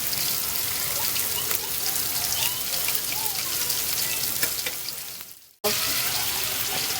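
Shrimp sizzling in a hot pan for a spicy salted shrimp dish, a steady dense crackle and hiss of frying that runs evenly, then cuts out briefly near the end before resuming.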